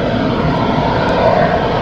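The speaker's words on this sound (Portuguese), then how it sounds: "Aqui um Eco-99 no seu hangar." Steady, loud engine roar of a Brazilian Embraer E-99 airborne early warning and control aircraft fitted with a Swedish Erieye radar, heard at its hangar as a continuous broadband drone with no speech.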